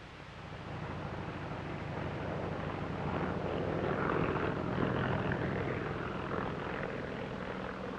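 A propeller aircraft flies in carrying a survey party to a remote forest clearing, its engine drone steady and moderately loud throughout, swelling slightly as it nears, with no voices.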